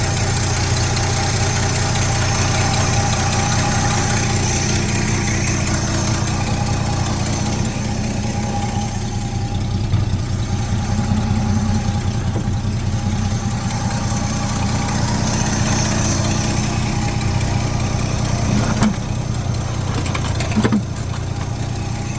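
An old 1972 Chevrolet truck engine idles steadily and loudly for the whole stretch, with an even, rough mechanical rumble and a slight knocking vibration, and no talking.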